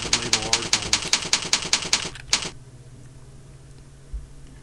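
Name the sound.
typing a search query on a computer keyboard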